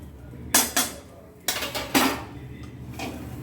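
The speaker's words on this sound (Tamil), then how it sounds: "சேர்த்துட்டு நல்லா கிண்டி விடுங்க" Makhana lotus seeds being stirred with seasoning powder in a pan, a series of close, loud metallic scrapes and clanks of the spoon against the pan, coming in irregular bursts with short pauses.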